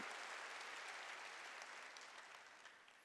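Applause from a church congregation during a sermon, a dense, steady clapping that fills the whole stretch at fairly close range and eases off slightly toward the end, with no talk over it.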